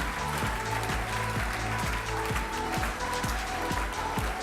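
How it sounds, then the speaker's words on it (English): A conference audience applauds a corporate-versus-startup panel, dense steady clapping filling the room throughout, loud and continuous with a faint low rhythmic pulse beneath. "That's the part where you applaud"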